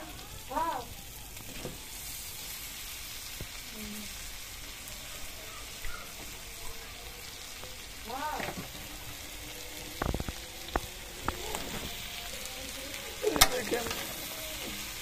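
Dried fish curry with taro stolons and jackfruit seeds is stirred in a pan, a faint low sizzle broken by occasional spoon clanks and scrapes, with some distant background noises.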